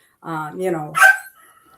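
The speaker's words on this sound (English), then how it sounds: "Having a dog that complains like your baby" A dog gives a brief whiny, complaining bark, a couple of close vocal bursts lasting about a second, with no talking over it.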